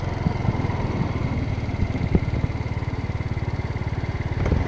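A Kymco Agility 50 scooter engine idles with a steady, rapid low putter and light mechanical clatter, heard close and fairly quiet throughout.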